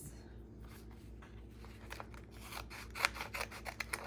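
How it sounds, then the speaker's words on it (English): Scissors snip through planner sticker sheets at close range. There are a few crisp cuts and some paper rustling, quiet at first and then sharper toward the end, with no talking. "So we'll cut some of these."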